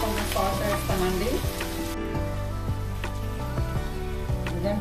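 Tomatoes fry in a hot pan for a brinjal masala curry, giving a dense close sizzle with intermittent scraping stirs and a low tonal hum running beneath, loud and continuous.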